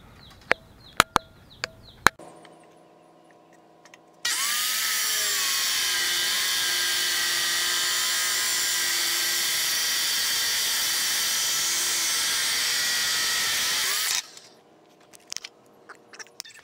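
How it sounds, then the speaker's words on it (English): A power tool cutting DOM steel tubing for an OBS Ford radius arm: a loud, steady, high-pitched whine held for about ten seconds, with a few sharp clicks and taps before and after. "So then that's where we'll cut the DOM tubing."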